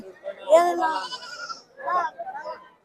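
A young goat kid at the Chikkanayakanahalli sheep market bleats in two loud, wavering calls close by, separated by a short pause.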